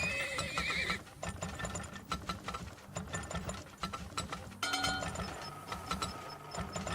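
In the video game Enshrouded, horses whinny repeatedly over a busy, clattering game soundscape with hoofbeat-like clip-clops and mechanical clicking, no talking.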